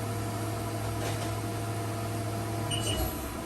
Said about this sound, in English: Simulating a tool change. You heard all the axes move.